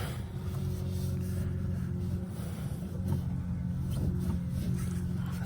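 A 1967 Rolls-Royce Silver Shadow engine running just after starting, a steady low rumbling idle with a couple of small swells that sound like throttle blips, moderately loud and close.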